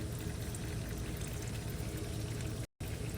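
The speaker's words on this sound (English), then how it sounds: "the reason you want the oil to drain off a little bit" Engine oil drains steadily from a loosened drain plug, a continuous close pouring trickle with a brief dropout near the end.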